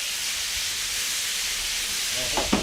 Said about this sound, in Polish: Co na tej patelni żeś dął najpierw, że, że to teraz tak skwierczy